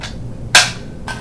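A bullet tip presses the bolt pin out of an AR-15 bolt, giving a sharp metallic click followed by a second, softer tap, both close and isolated.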